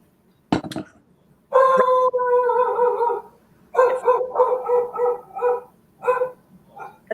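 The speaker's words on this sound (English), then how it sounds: "That must be my dog." A dog gives a sharp yelp, then a run of drawn-out, howling barks and yowls in bursts, close and loud.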